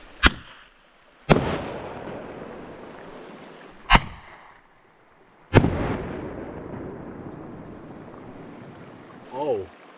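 A bear banger fired out ahead outdoors in burned woodland cracks in four sharp loud reports, each trailing into a long rolling echo, with a brief voice at the end.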